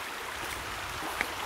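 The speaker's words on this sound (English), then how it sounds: "You can hear the creek now." Creek water flows steadily at Bluff Creek in a wooded setting, a soft continuous wash with faint splashing, fairly distant and low in level, with one brief tap near the end.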